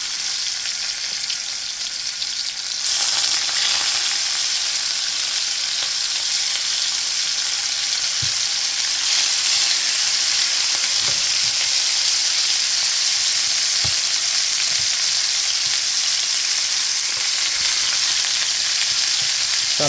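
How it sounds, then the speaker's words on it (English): Oxtail browns in a pan for Jamaican oxtail and butter beans, a steady close sizzle that jumps louder after a few seconds, with scattered light taps and spatters throughout. "I'm going to brown the oxtail"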